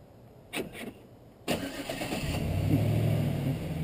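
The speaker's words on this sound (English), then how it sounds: "we're going to start the engine" A truck's engine starts after a couple of short starter cranks, catches, and settles into a steady medium-pitched idle that continues to the end.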